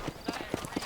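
Horse hooves clip-clop in a short, even rhythm of about four hoofbeats in the Red Dead Redemption video game, heard close and moderately loud with a faint high tone running underneath.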